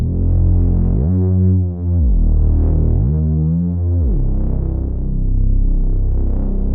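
Deep droning slap house synth bass with an LFO slowly sweeping the filter, giving a wobbling, throbbing movement as sustained notes shift pitch.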